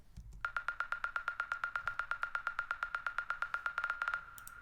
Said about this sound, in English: It's just a percussion element I actually found on Splice.